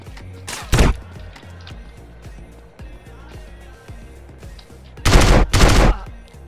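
Video game gunfire in Arizona RP: two loud, close bursts of rapid automatic fire around one and five seconds in, with scattered softer shots and thuds between them.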